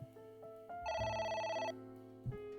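A phone rings in AI: The Somnium Files, a synthesized ringtone of stepped melodic tones that swells into one long bright trill before settling back, loud and clear with no voices over it.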